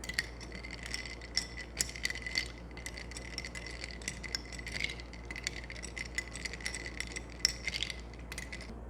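Ice clinks and rattles against a glass as milk is stirred into iced coffee, a run of light, bright taps and jingles that is quiet and close throughout.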